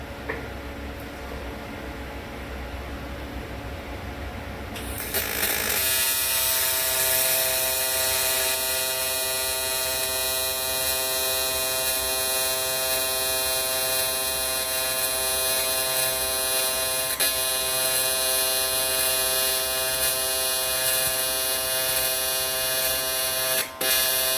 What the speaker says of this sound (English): I'm going to go ahead and start welding it.